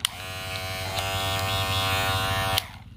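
VGR V-282 cordless electric hair clipper running: a steady, buzzing motor hum at moderate loudness, close up and uninterrupted for about three seconds before cutting off.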